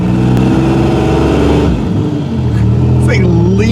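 A 1986 Oldsmobile's engine and exhaust rumble steadily and loudly while driving, with a low drone throughout and voices talking over it near the end.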